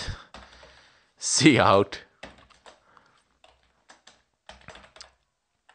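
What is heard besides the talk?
typing code on a computer keyboard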